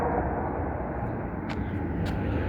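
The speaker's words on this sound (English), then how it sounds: "I hear a jet over there powering up." A jet engine powers up at a distance near the Las Vegas Strip, a continuous broad roar holding steady, with faint brief clicks over it and no talk.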